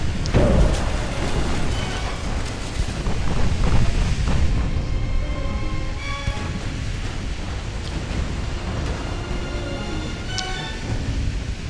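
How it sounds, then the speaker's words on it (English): A torpedo strikes a warship in the naval game Ultimate Admiral Dreadnoughts, a heavy boom at the start that trails into a long, low, rumbling wash like surf and distant battle noise. "Torpedo is going to hit"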